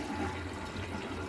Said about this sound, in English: I'm just going to release the water from both sides of the sink and see if it leaks